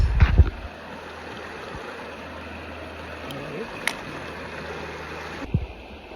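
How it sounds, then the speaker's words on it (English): River stream near Camp Verde, Arizona, flowing steadily: a soft, continuous wash of water rushing in the background, with a few brief knocks and rustles nearby. "I hope you like the sound of the water behind me"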